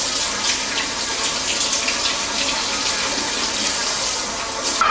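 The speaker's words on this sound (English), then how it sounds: "then we're going to add 1/4 cup of hot water." Hot water pours steadily into a pumpkin dessert mixture made with powdered sugar, a continuous close splashing hiss with no talk over it.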